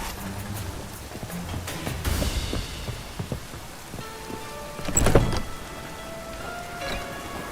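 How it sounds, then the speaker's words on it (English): Rain falls in the Witcher 3: Wild Hunt video game as a steady hiss, with a few brief knocks and a louder crash in the middle, plus faint tonal game sounds. "Rain, I like rain."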